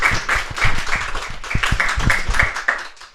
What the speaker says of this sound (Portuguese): Uma salva de palmas para todo mundo aqui.